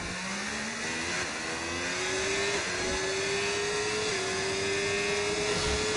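A Haas and an Aston Martin F1 car in a racing video game on the Azerbaijan circuit drone past with high, rising engine whine, a steady loud pitch climbing through gear shifts with no talk.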